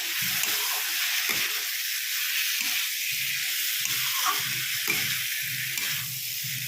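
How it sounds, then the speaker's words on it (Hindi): Loud, continuous hissing sizzle of potato and jackfruit pieces frying in spice masala in a hot pan, with occasional low scraping knocks from stirring underneath. "इनको 2 से 3 मिनट तक भून लेंगे सब्जी के मसाले के साथ"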